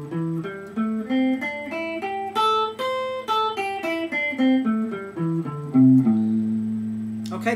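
A guitar plays a pentatonic scale note by note, each plucked tone clear and sustained as the notes step up and back down in an even, unhurried rhythm, close and with no talking.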